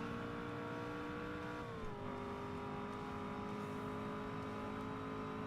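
A race car engine drones in Forza Motorsport, a steady whining note that drops in pitch as the car shifts gear, then holds at a lower tone; quiet with no talking.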